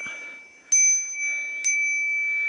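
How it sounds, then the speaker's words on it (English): A Knog bicycle bell rung twice near the mic, two bright high rings with a sustained metallic tone between them, heard alone outdoors. "the Knog bell wasn't actually all that loud"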